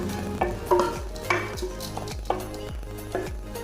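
Lovebird feed being stirred in a wok over a fire, repeated scraping strokes of a utensil against the pan with light clatter, close and fairly quiet, no one talking.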